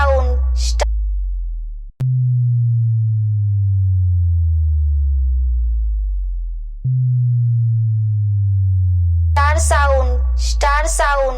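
A "star sound" effect with heavy bass, two long, loud, low sine tones sliding slowly downward, each opening with a sharp click, framed by brief bursts of a voice at the start and end.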